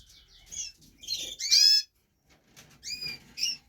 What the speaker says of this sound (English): Zebra finch is having a little siesta.